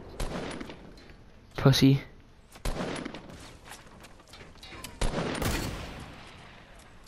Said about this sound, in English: They're just shooting at us from, like, 118.